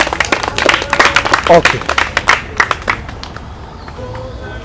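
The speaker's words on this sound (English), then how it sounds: "Somebody give her a round of applause" Audience clapping at a university student summit Q&A session, a brief burst of claps that fades out within a few seconds, with a voice speaking briefly.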